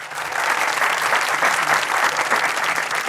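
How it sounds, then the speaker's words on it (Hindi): A studio audience at a Pakistani comedy talk show claps steadily in dense, sustained applause that holds at an even level for the whole stretch. "बहुत सी तालियां उठा लो बेटा"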